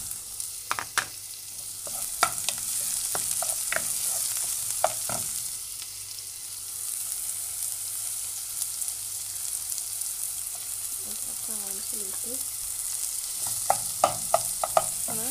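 Chopped onion sizzles steadily in a hot pan for Uyghur-style spicy noodles, a continuous bright hiss with scattered sharp clicks and scraping stirs near the start and end, close and alone without talk.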